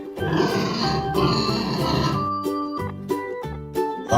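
A toy pig makes a run of low grunting, snorting sounds, loud and close, with a few separate short grunts trailing off toward the end.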